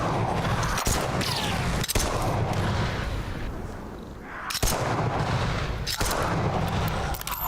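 Pistol shots and heavy booms in the game SAND: Raiders of Sophie burst out loudly and close, several sharp cracks separated by brief gaps over a constant roaring background, no talk.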